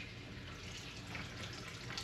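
Whey trickling and dripping from a squeezed cheesecloth bundle of curds, a faint, steady watery patter close by with no voices.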